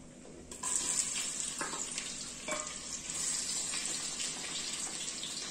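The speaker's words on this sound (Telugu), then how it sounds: "బ్రౌన్ కలర్ వచ్చేంత వరకు బాగా వేయించుకోవాలి" Chopped onions and green chilies sizzle steadily in hot oil for chicken biryani, a close, continuous frying hiss with a few soft stirring clicks and scrapes.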